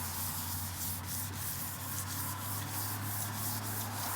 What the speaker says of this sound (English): this step is to sand it